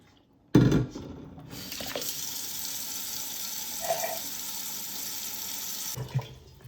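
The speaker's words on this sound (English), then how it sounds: "We are filling up our pot of water, a little over half full." Tap water pours into a cooking pot in a home kitchen, filling it a little over half full for Southern chicken and pastry. One steady, close rushing stream runs for about five seconds and then cuts off, with no talking.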